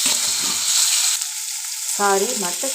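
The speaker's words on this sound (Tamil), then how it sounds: "அடுப்பை லோ ஃப்ளேம்லேயே வச்சு நல்லா வதக்கி எடுத்துக்கோங்க." Onion and tomato sauté in oil over a low flame for mutton curry, giving a continuous close sizzle with brief stirring scrapes and a short tonal squeak partway through, no voices.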